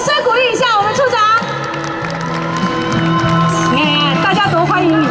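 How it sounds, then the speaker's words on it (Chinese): At a group wedding ceremony, a crowd applauds and cheers to welcome the section chief to the stage, with loud, continuous clapping layered over music and a lively hall atmosphere. "那掌声鼓励一下我们处长。"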